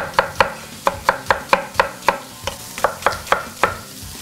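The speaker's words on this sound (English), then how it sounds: "I'm gonna julienne up 3 large onions" A knife julienning three large onions taps fast and steadily on a cutting board, with a dozen or more crisp, evenly spaced chops heard close up. Faint sizzling from a pan carries on in the background and nobody speaks.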